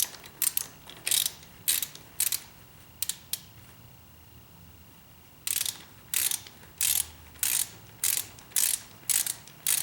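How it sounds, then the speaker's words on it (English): A hand ratchet tightens the front fender bolts on a Harley-Davidson 48 motorcycle, making quick bursts of close, crisp clicking separated by pauses, with a longer gap midway before a steadier run of clicks. "Got a ratchet here and a rag."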